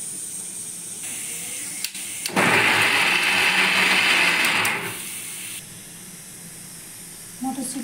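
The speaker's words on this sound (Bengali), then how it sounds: "মটরশুঁটি দানাটা আমি পেস্ট করে নিয়েছি।" A mixer grinder blends green peas, ginger and green chili into a paste, whirring loudly for about two and a half seconds and then cutting off, with quieter room noise before and after.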